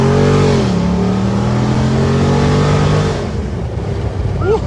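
A Jeep with the 392 engine accelerating hard, its loud engine note rising and shifting in steady harmonic sweeps, close and continuous, before easing off slightly near the end.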